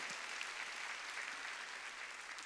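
A church congregation claps together during a Sunday worship service, a continuous wash of hand claps at fairly low level, steady and even with no talk over it.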